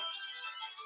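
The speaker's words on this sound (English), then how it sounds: "phone's ringing" A phone ringtone alarm chimes in a short, bright, tonal burst lasting under a second. It is faint and sounds alone.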